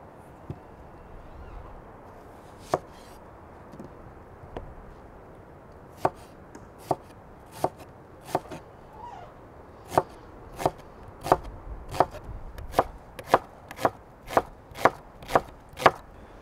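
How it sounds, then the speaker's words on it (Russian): Onions chopped with a knife on a board for plov, starting with sparse cuts and building into steady rhythmic chops, close and crisp. "Сейчас следующим мы нарезаем лук."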